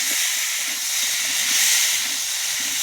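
Water poured into a hot pan of well-fried, sizzling spice masala gives a loud, steady steaming hiss that fills the whole stretch, close and continuous with no talking.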